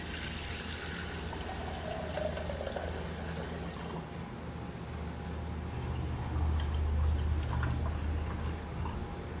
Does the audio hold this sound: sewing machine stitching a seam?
no